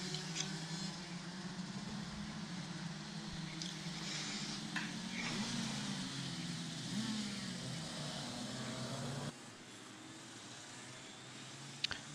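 Racing karts from a Tillotson T4 karting championship at the Madona circuit in Latvia run a rolling formation lap, their engines droning steadily at mid distance before the sound drops off near the end.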